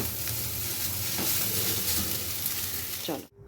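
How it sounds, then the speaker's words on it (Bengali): Chow mein being reheated in a pan gives a steady close sizzle and frying hiss with light stirring scrapes, which stops abruptly near the end. "প্রীতিকে এখন চাউমিনটা গরম করে দিয়ে দিই"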